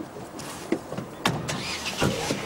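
Car doors open and thud shut as people climb in, with scattered clunks and rustles inside the cabin before a short engine start, moderately close and with no speech.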